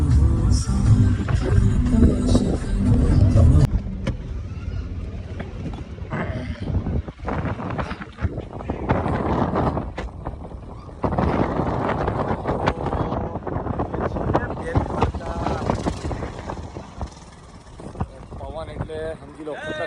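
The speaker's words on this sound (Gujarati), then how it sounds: "પવન એટલે સમજી લો ખતરનાક પવન છે." Strong gusty wind buffets the microphone at Bet Dwarka, a loud roaring rumble that swells and eases throughout, with voices heard talking underneath.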